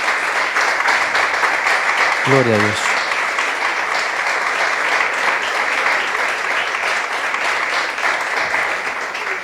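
A church congregation breaks into sustained, dense clapping that fills the room, with a voice briefly calling out over the applause.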